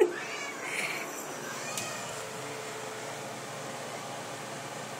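A cat meows from behind a window, one clear meow near the start, then a quieter, fainter cry, over a soft steady hum of room noise.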